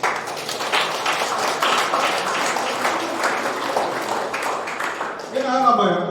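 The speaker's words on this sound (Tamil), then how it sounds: "மாணவர்கள் நீங்கள் கைத்தட்டியே ஆக வேண்டும்." Students at a school book launch ceremony clap together in a dense burst of applause that tapers off, and a voice resumes talking at the end.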